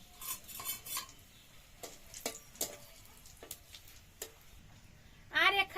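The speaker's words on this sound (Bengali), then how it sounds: "এবার তেলের পরে ফোড়নে দেব জিরে," Cumin seeds, dried chilli and bay leaf dropped into hot oil for a chicken curry. A spoon scrapes and clinks against the pan in scattered taps, and a burst of sizzling comes at the end.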